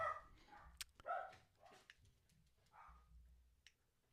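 Several dogs bark outside in quiet, distant bursts, a few sharp yips and barks scattered across the few seconds against a low, faint background.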